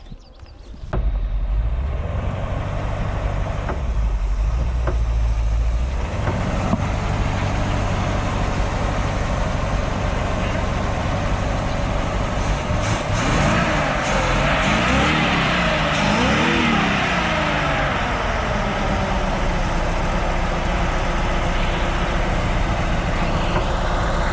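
An old car engine runs loud and close, starting with a rough idle while it warms up. It stays as a steady drone, with rising and falling revs in the middle as the carburetor is adjusted.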